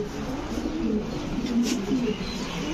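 Fancy pigeons such as Beauty, King and Lahori breeds coo at a farm, a soft, continuous low throaty murmur layered over steady background noise.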